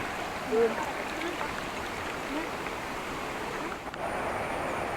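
The stream below Marmala waterfall flows with a steady, moderately loud broadband rush, fairly uniform throughout, with a brief voice near the start and another right at the end.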